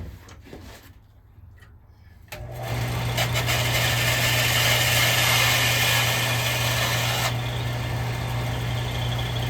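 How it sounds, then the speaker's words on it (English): A belt sander grinds a leftover bit off a Shakespeare spincast fishing reel handle part. After quiet handling sounds, a loud steady whir starts up and runs continuously, then eases slightly near the end. "I'm going to put that on my belt sander and remove that"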